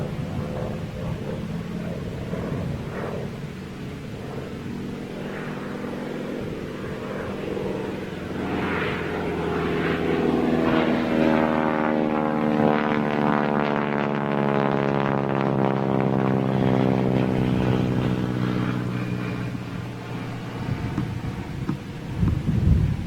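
An Aero Legends Spitfire flies overhead, its engine swelling in a long, loud drone as it nears, then fading as it passes, with no talk.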